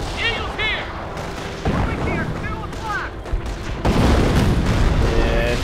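Artillery bombardment explodes in a Company of Heroes 4-on-4 match, heavy booms and blasts rolling through a dense battle din alongside game voice lines, with a louder burst near the end.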